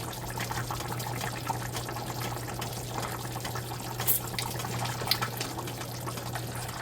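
Jamaican curry goat simmers in a pot with faint, quiet bubbling and occasional soft pops over a low steady hum.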